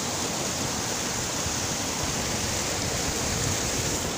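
Dense, steady roar of falling water at the Cachoeira do Salto do Rasgão waterfall, a broad continuous rush with no pauses that fills the scene evenly from start to finish.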